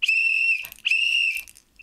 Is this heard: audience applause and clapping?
no